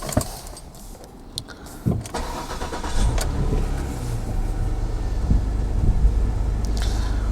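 A used car with 64,500 miles and an engine warning light on is started up: a few mechanical clicks and clunks, then the engine catches around three seconds in and settles into a steady, close idle rumble with no talk.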